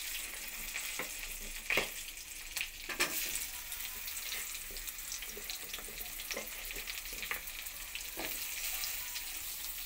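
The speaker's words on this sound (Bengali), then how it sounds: "ওই তেলের মধ্যে আমি আলুগুলো ভেজে নেব" Potatoes frying in oil left over from frying eggs, a soft, steady sizzle with occasional faint clinks of a spatula, quiet and continuous with no voices.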